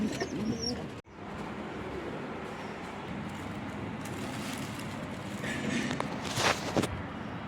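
Pigeons coo at close range in a coop during egg checking, a low steady murmur of bird calls with occasional soft movement and brief rustles.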